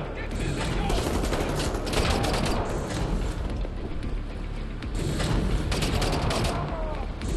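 Enemy gunfire in the video game Wolfenstein The New Order, a dense, continuous clatter of automatic shots and mechanical noise from several shooters, loud and steady throughout.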